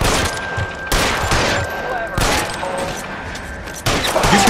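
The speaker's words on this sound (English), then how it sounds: "Blind fire!" Bursts of gunfire crack out repeatedly in LA Noire, several loud volleys spaced roughly a second apart over a dense, noisy background of shooting.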